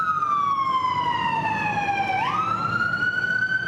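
An ambulance siren at a road accident scene in Quito, Ecuador, wails loud and steady, with its pitch sliding down and then jumping back up, over constant traffic rumble.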